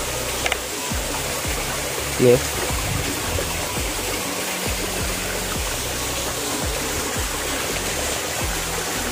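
Continuous rushing water from a nearby waterfall in Purulia, India, heard from under a tree, a steady broad roar with a few faint knocks and clicks over it.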